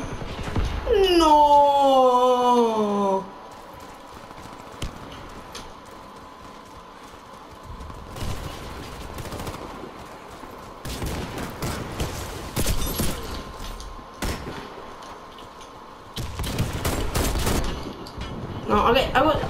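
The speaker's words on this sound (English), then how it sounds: "I was getting shotgun, AR'd, and sniped at the same time" In Warface, a flurry of gunfire from shotguns, assault rifles and sniper rifles comes in scattered bursts and sharp cracks, with a horse whinny at the start and a steady hum between shots.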